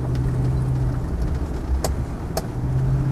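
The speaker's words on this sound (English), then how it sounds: "engine starts on the button, certainly when it's cold" A Land Rover Defender 90 engine runs at a steady, smooth hum, close and constant, with two brief faint clicks over it and no talking.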